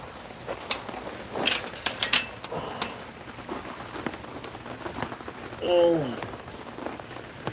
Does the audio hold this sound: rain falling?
yes